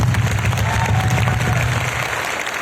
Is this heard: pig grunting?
no